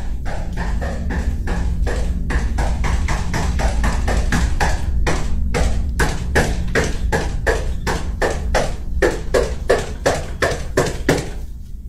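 A door being banged on in a scary clip, with rapid, loud, regular thuds repeating close by over a low background rumble, then breaking off briefly near the end.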